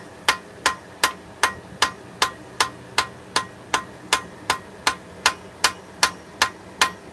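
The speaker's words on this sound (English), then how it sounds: "There's a hammer." A hammer strikes hot steel at the forge in an even, unhurried rhythm, about twenty sharp ringing blows, each loud and close with a short decay before the next.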